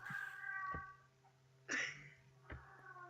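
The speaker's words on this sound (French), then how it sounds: "on l'entend miauler" A cat meows in a few short, slurred calls with pauses between them, close by, over a faint steady hum.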